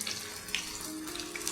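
Chicken kebabs fry slowly in oil over a low flame, browning on both sides, giving a steady, faint, close sizzle and hiss with no voices.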